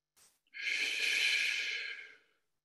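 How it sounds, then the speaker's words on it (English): One person takes a brief sniff, then releases a long, steady breath lasting well over a second, close and soft, tapering off at the end in quiet surroundings. "Nice deep breath in. Blow it out."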